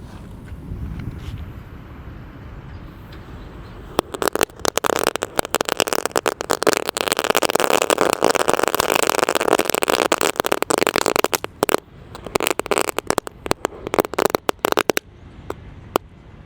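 Firecrackers buried in the ground set off during a Ramadan evening outing, a long run of dense, rapid cracking bursts after a few quiet seconds, loud and close, thinning into scattered pops near the end.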